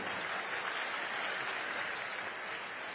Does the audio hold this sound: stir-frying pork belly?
no